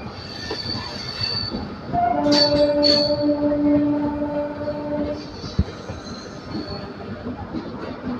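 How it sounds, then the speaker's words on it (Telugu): The Secunderabad–LTT Duronto Express, a fully air-conditioned train, passes with a loud sustained horn blast over squealing wheels and steady rail rumble. "Secunderabad LTT Duronto express full AC train అది."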